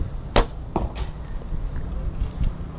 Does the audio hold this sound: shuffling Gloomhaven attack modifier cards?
no